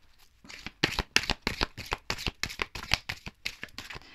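Oracle cards from the Oracle du 6e sens deck being shuffled close by, a quick run of about a dozen crisp, papery riffling bursts in an even rhythm with no talking.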